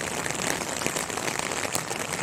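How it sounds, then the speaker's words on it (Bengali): Soft, constant patter of rain falling, a faint even hiss with scattered drips and no voices. "বৃষ্টি পড়ে বাইরে"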